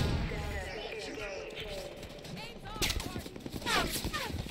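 Gunfire in the video game Halo 5: Guardians, bursts of shots and rapid automatic fire mixed with game effects, heard under people talking.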